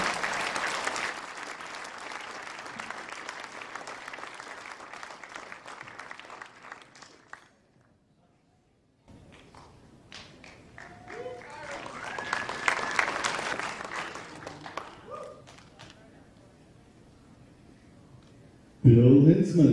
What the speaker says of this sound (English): Keep clapping, she has the roof on.